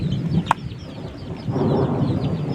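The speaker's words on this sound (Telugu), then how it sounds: "అసలు గాలి ఈదురు గాలులు అసలు బాగా ఉరుముతుంది" A broad low rumble of thunder rolls beneath steady wind and rain noise, with a brief sharp crack early on and a swell of rushing rain later.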